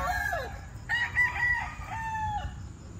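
A fighting rooster on a small gamecock farm in Calamba, Laguna crows once, close and clear, its call rising and wavering over about two seconds against quiet farm background.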